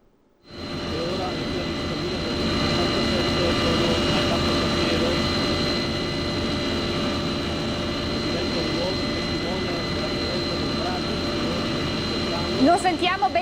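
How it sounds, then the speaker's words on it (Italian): A helicopter carrying the relics of Saint Anthony flies over the province of Padova. Its steady rotor and engine roar holds loud and continuous for most of the stretch after a quick onset, with tonal whine layered over it and a brief burst of voice near the end. "l'elicottero con le reliquie di Sant'Antonio che sta sorvolando tutta la provincia di Padova"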